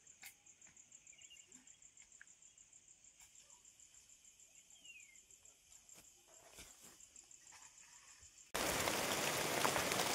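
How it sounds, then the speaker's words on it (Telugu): Rain falls over dense forested hills around a tribal village near Seethampeta. Scattered drops patter among steady high cricket chirping, then a sudden loud, dense downpour hiss takes over for the last seconds. "వర్షం బాగా పడుతుంది."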